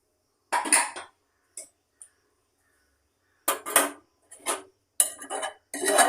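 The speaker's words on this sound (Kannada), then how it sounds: "ಇವಾಗ ಕುಕ್ಕರ್ ಕೂಲಾಗಿದೆ. ಲಿಡ್ನ ತೆಗಿತೀನಿ." A cooled pressure cooker lid is handled and opened in a home kitchen while preparing soppu saaru, giving a series of brief metallic clanks and scrapes separated by quiet gaps, close and moderately loud.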